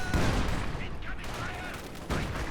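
Dense artillery barrage in Company of Heroes 2, a sustained roar of overlapping blasts and gunfire hitting a sandbag position, loud and continuous with a fresh burst near the end; a commentator talks over it.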